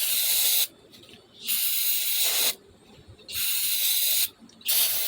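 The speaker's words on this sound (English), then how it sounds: "Spray it up a little bit, let it go." Three short aerosol spray bursts hiss loudly into a car starter, each lasting about half a second to a second, separated by brief pauses.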